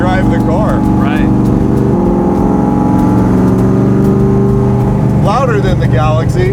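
1967 Ford FIA Fastback Mustang engine with straight-through side pipes, a loud deep rumbling exhaust drone under a passing roar, while people talk over it at the start and end.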